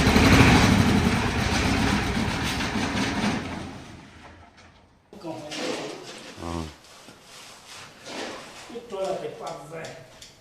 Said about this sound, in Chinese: 我们又叫了拖拉机，拉了3吨水泥过来